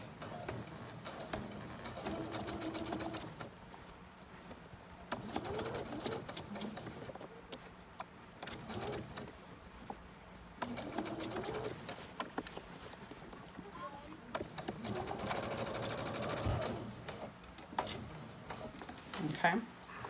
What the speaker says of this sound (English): this is really kind of thick, but I'm just gonna do a basting stitch